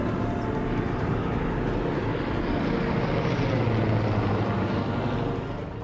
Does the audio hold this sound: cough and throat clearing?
no